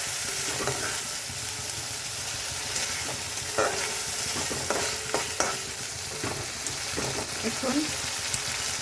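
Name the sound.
green chilies frying and being stirred in oil for egg korma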